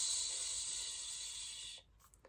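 A Hatch sound machine hisses out steady TV-static white noise for under two seconds, even and moderately loud, then cuts off into near silence.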